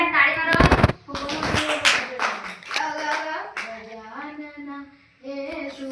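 Several sharp bursts of hand clapping from a group of people ring out in the first two seconds, then voices sing a devotional Ganesh song with harmonies.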